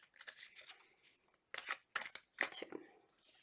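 A deck of tarot cards is shuffled by hand in a few quick, faint bursts of riffling and sliding, close by and separated by short pauses, with no voice over them.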